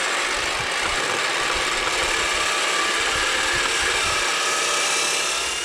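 A small bench drill runs while drilling a hole for a trigger mechanism, a steady, loud continuous motor whine with constant level and no pauses.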